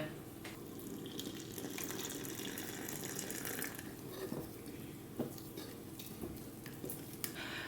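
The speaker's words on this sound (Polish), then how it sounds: "I teraz dodajemy jeszcze 100 ml wody" A thin stream of 100 ml of water pours steadily into a jar of rye sourdough starter for several seconds, a soft continuous trickle with a few faint clinks, no one speaking.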